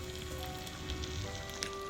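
Chicken grilling in a pan on very low heat, reusing the pan that fried onions and almonds, for an Arabic chicken mandi; a soft, continuous close sizzle with faint crackles, no voices.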